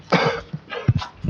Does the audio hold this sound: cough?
yes